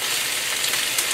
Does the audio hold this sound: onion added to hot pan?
yes